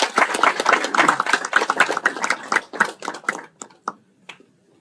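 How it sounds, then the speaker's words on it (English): An audience at a management institute's annual day gives a big round of applause, dense and lively at first, then thinning into scattered claps before fading out. "So please accept my congratulations with a big round of applause."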